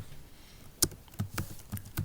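Computer keyboard typing a text file name, a handful of quiet, close keystrokes in an uneven rhythm over a soft room hiss.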